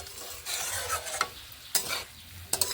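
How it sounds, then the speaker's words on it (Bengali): Boiled winter vegetables stirred in a pan after steaming under a lid, soft moist sizzling with a few sharp spatula scrapes against the pan, close and fairly quiet, nobody talking. "এবার ঢাকা খুলে আমি নেড়ে নিচ্ছি সব সবজিগুলো খুব সুন্দরভাবে সেদ্ধ হয়ে গেছে"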